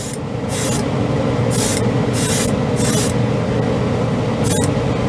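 Mr. Hobby Aqueous primer is airbrushed onto plastic in short hissing bursts, about five of them, close and loud over a steady background rumble.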